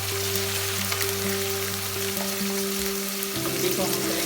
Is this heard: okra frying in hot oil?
yes